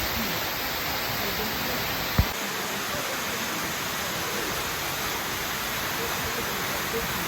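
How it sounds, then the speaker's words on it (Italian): The San Giovanni waterfall on Maiella mountain in Abruzzo roars as a loud, steady, broadband rush heard from close behind the falling water, with one brief knock partway through. "Ecco, adesso siamo dietro le cascate di San Giovanni."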